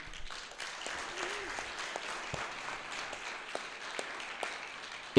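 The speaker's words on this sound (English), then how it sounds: "So a huge round of applause for them." An audience at an international university startup competition applauds, a soft, steady patter of clapping that sounds fairly distant, with a voice speaking faintly over it.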